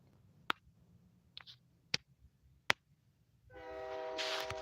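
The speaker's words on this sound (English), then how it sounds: "Oh, there's my train." A train horn sounds for about a second near the end, loud and sustained, after a quiet stretch broken by a few sharp isolated clicks.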